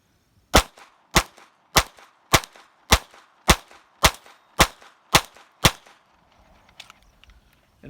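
Ten sharp gunshots from an XD9 pistol fitted with a .22LR kit, firing Remington Thunderbolt 40-grain lead round nose ammunition, crack out at a steady, even pace, loud and close, then fade into quiet outdoor background.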